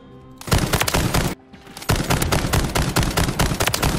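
A RAAL MG light machine gun in Call of Duty: Modern Warfare roars in long close bursts, breaking off for a moment before opening up again in a sustained, heavy stream of shots.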